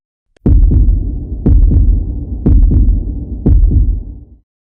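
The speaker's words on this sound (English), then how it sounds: "The heartbeat thundered again." An audiobook heartbeat sound effect thunders four times at a steady pace, each a deep, booming double thump that rings out over a low rumble, loud and alone.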